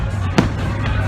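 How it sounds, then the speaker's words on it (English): At the Isle of Wight Festival, a single firework bursts in the distance, a brief soft boom over a constant low crowd and music hum. "Fireworks going on in the background."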